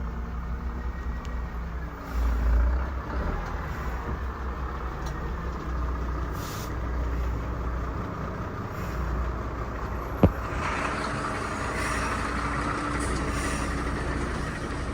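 A heavy truck grinds along the flooded Transamazon highway BR-230, a constant deep rumble with a wash of mid-range noise, fairly loud and steady, with one sharp knock partway through.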